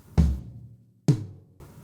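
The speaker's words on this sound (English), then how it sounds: "He plays the right on the floor tom and the left on the first tom" A drum fill with the right hand on the floor tom and the left on the first tom: two deep, booming tom hits with ringing decay, then a third strike, close and alone.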